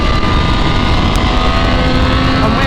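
A Triumph Street Triple 765 motorcycle engine drones loud and steady at close range during sighting laps on a racetrack, a sustained even tone with light wind rush.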